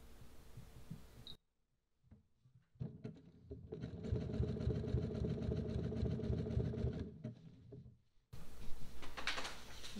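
A sewing machine stitches a Halloween Frankenstein applique quilt block, a steady close mechanical hum with fast rhythmic needle chatter running several seconds, starting after a brief silence and then giving way to handling noise.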